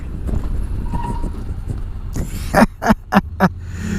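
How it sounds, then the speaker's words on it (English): A Honda NM4 Vultus motorcycle brakes hard with ABS under a steady engine and wind rumble, then gives a few loud, surging bursts in quick succession near the end. "Let's try a brake test."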